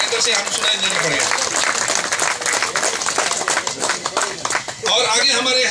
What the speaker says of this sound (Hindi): ताली बजता रहना पड़ेगा